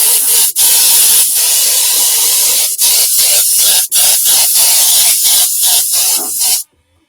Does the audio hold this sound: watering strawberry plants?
no